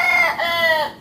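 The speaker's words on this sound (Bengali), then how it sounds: "এই দেখেন একটা মোরগ।" A rooster gives a short, close, clear call, one brief harmonic burst of clucking with nothing else around it.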